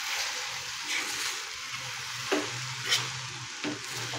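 A spatula scrapes and turns spring onion dry sabzi in a hot pan, a soft steady sizzle punctuated by three or four louder stirring strokes, close and fairly quiet with no one speaking.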